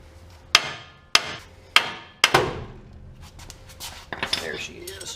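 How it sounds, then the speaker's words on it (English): Four sharp metallic hammer strikes on the side of a GMC 1500 pickup's front suspension ball joint bolt, about evenly spaced, loud and close, followed by a clatter as the bolt pops free. "I'm gonna hammer this from the side, pop this thing out"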